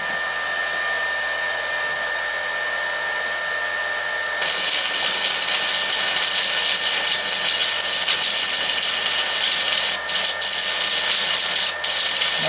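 A Minleaf ZX7-250 inverter stick welder strikes an arc partway through, turning a quiet hum into a loud, steady crackling hiss that runs on with a couple of brief breaks.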